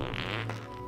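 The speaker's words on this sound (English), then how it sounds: "I can still fart and giggle." A character fart in the video game Fable, one short, loud, buzzy blast with a raspy tone that quickly tails off.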